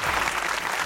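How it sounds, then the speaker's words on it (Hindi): An audience at a comedy talk show claps together in sustained, dense applause filling the whole moment, steady and fairly loud with no break. "तालियां बजाइए।"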